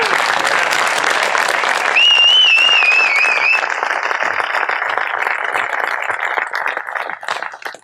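A crowd at a political gathering in Texas applauds veterans who stand to be recognized. Dense, loud clapping runs the whole time, a whistle cuts through early on, and the applause tapers off toward the end.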